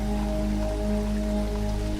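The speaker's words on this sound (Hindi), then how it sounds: "शाम का समय हो जाता है और बारिश होने लगती है।" Steady rain patters continuously with a dense, even hiss, over a faint low tonal hum.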